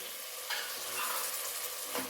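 Two large chopped tomatoes with green chillies sauté in a biryani pot, giving a dense continuous sizzle with a couple of brief stirring scrapes, close and steady with no talking.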